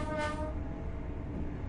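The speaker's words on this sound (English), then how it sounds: "Oh, there's a train going past." A train passing in the Train Sim World 4 video game, a brief horn blast at the start over a loud, continuous rumble of rolling railcars close by.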